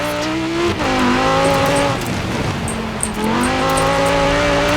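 An Audi R8 V10 supercar drives off-road in the snowy racing game Forza Horizon 4, its engine droning and shifting pitch under continuous tire and terrain noise.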